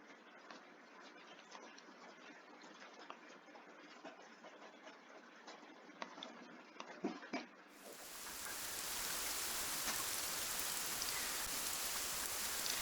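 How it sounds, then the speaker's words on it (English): Rain falls outdoors near horse stables, a soft steady patter that suddenly swells into a louder, denser hiss partway through, with no one speaking. "I started running as it started to rain a little bit harder."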